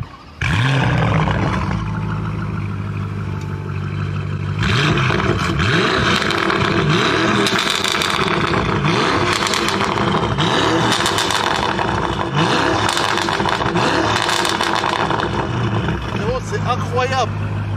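A powerful Bentley car engine roars and revs repeatedly, rising and falling in loud bursts close by, with a person talking over it.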